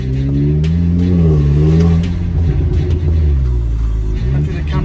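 A car fitted with a new exhaust and a stage 1 tune accelerates hard, a loud, deep, rumbling engine note rising and falling with gear changes, close to the microphone while someone talks.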